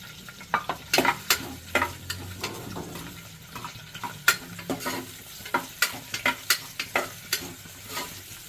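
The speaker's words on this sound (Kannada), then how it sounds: "ಕರಿಬೇವು, ಈರುಳ್ಳಿ ಹಚ್ಚಿಟ್ಕೊಂಡಿದ್ವಲ್ಲ ಅದನ್ನ ಹಾಕೋಣ ಫುಲ್ಲು" Chopped onions and curry leaves fry in hot oil with chana dal for a vegetable pulao. A steady close sizzle runs under a rhythmic series of loud spatula scrapes and taps against the pan.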